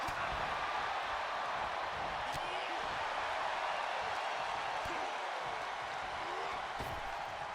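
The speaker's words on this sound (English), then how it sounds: "The crowd chanting for Clive to use his limit break." A wrestling video game crowd chants for Clive, a steady dense wall of noise from a big arena audience that holds evenly throughout at moderate volume, with a few faint thuds underneath.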